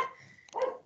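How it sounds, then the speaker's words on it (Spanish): A small female dog gives two quick, close barks about half a second apart, a brief sharp sound in an otherwise quiet indoor room. "Disculpen mi perrita"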